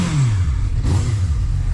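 A Honda Hornet four-cylinder motorcycle engine revs steadily up close, a loud, continuous rumbling growl with a slight rise in pitch and no voices over it.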